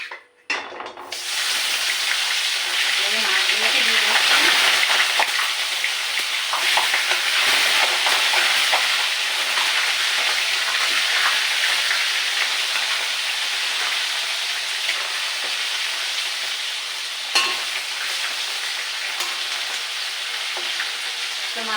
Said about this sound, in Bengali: আগে আমি মাছটা ভাজি করে নেব তার জন্য কড়াইতে তেল দিয়ে তেলটা গরম করে নিয়েছি